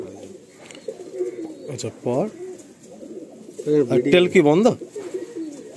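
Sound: Madrasi pigeon cooing

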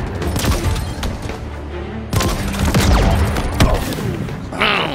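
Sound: grenade explosions and gunfire in video game Halo Infinite

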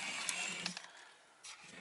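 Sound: Revoe electric scooter motor running with throttle

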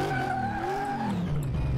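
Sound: race car skidding in a video game

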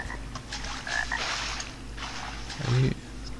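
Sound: frogs croaking in the video game Arx Fatalis

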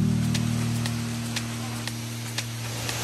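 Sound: rain falling in North Bali

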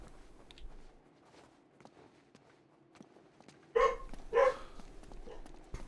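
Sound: dogs barking, from a video game

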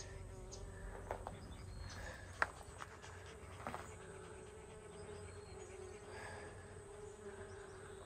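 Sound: bees buzzing

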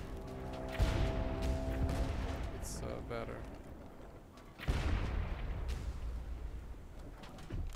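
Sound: ship cannon fire in video game

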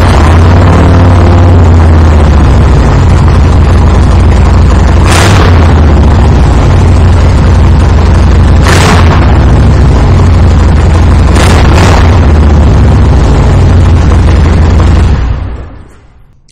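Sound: 2020 Harley-Davidson Softail Standard with Vance & Hines exhaust started up

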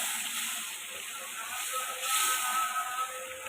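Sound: spice paste frying with tomatoes

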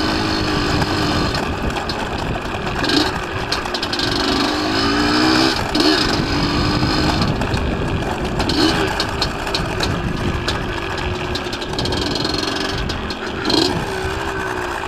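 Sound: motorcycle engine misfiring

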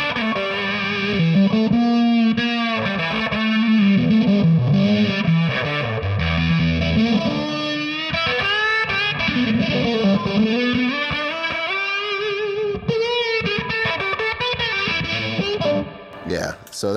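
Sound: electric guitar through octave and fuzz pedals

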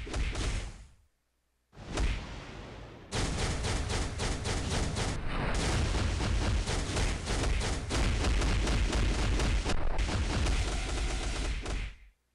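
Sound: Captain Marvel plasma beam blast, from video game Marvel: Future Fight

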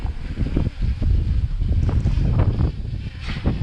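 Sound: strong wind while flying a DJI Mini 3 drone

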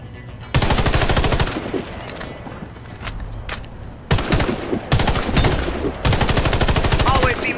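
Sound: gunfire from the Warface video game

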